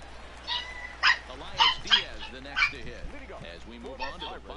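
A dog barks in a room, sharp repeated yaps and yips in an uneven run of about half a dozen calls, fairly close, with a low steady hum underneath.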